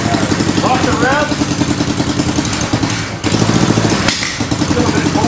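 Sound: go-kart engine idling and revving

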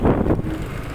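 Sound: strong wind

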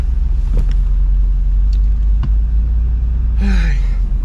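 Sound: car turning around and driving off

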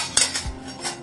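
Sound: metal cooking vessel handled for making paneer

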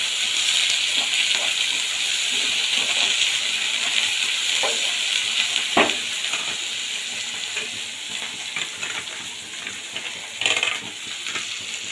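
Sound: stirring chopped onion in a pan

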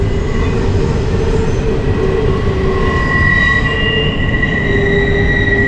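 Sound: passing train

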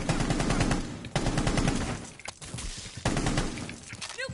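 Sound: gunfire in the video game Rainbow Six Siege

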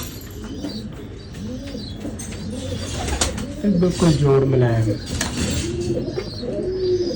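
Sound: pigeons cooing

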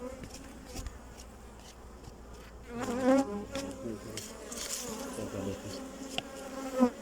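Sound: honeybees buzzing

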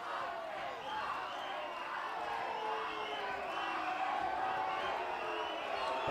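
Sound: boxing crowd cheering in support of Arce

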